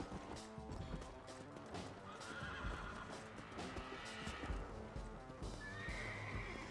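In Red Dead Redemption on Nintendo Switch, a tired horse whinnies amid steady clip-clopping hooves and a dense, busy game soundtrack, with a second neigh near the end.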